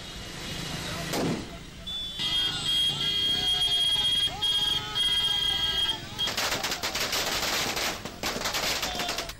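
Firecrackers pop and crackle in quick, irregular bursts during a street celebration, mixed with crowd noise and voices in the background, loud at moments and trailing off between volleys.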